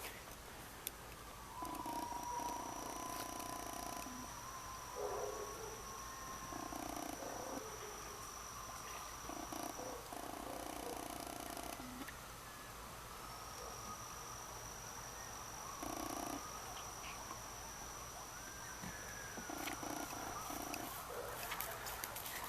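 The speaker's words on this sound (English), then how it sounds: "That's a coyote." A coyote calling at night, with long wavering howls and yips repeated several times at a distance over a steady background of crickets and other insects, with no talking.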